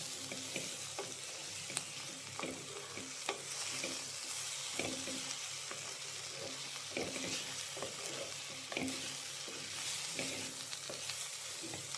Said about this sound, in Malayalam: നന്നായിട്ടൊന്ന് ഇളക്കുക. ഈ മല്ലിപ്പൊടി നന്നായിട്ട് മൂക്കണം.